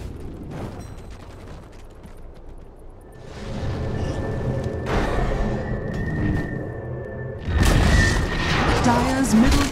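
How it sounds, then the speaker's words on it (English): A Dota 2 tower is destroyed, giving heavy booming crashes and layered battle effects. A big impact surge near the end sits over constant game noise, and a voice speaks briefly at times. "Dire's middle tower has fallen."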